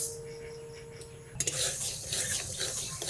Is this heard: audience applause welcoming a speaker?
no